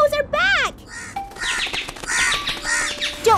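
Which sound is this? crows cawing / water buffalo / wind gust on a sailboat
crows cawing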